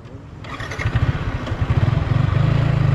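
Motorcycle engine being revved to raise its idle, starting with a clattering catch and then building into a fast, loud, close pulsing putter that grows steadier and stronger.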